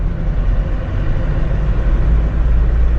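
A Mahindra Bolero's diesel engine runs with a steady, close low rumble, without pause.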